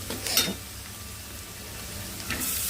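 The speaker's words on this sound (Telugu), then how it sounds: "పసుపు ఇలా ఆయిల్లో మగ్గింది" Turmeric frying gently in oil gives a soft, continuous sizzle, with a couple of brief scraping stirs of a spoon in the pan near the start and the end; no voices.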